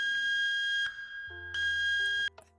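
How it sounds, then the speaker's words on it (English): A bank alarm siren from the HBM Nuclear Tech Minecraft mod, a loud electronic warbling beep siren with steady high tones that shift pitch partway through before cutting off, with no talking. "Next, we have our bank alarm. Sounds like an off version of the ADC beep siren."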